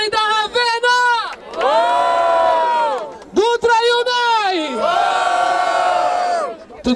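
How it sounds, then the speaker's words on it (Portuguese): A crowd at a mixed-duo rap battle in Barueri, Brazil, roars with loud cheers and shouted whoops in two big surging waves separated by a brief dip, close and filling the space. "Quero muito barulho pra quem gostou das rimas do Salvador."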